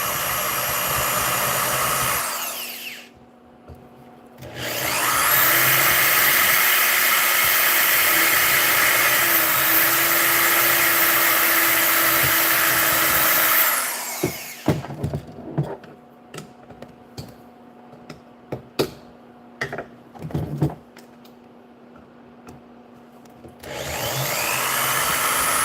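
Power drill whirs steadily in long bursts while boring a hole into a Gaslands model car, the motor loud and close, separated by quieter stretches of scattered clicks and handling noises.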